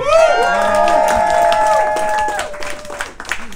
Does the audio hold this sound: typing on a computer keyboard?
no